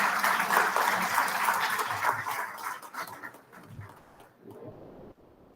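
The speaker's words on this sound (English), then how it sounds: "Can we please welcome him with a huge round of applause?" A conference audience at an IEEE sustainable power and energy systems event applauds, a dense wash of clapping that holds steady for about four seconds, then thins and dies away into near quiet.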